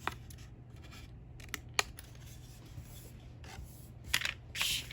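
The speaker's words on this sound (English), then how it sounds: "When this is folded, just cut that off." Scissors trimming an excess flap of folded cardstock for a holiday folio album, giving a few close, crisp snips and a short papery slicing rasp over a low background hum.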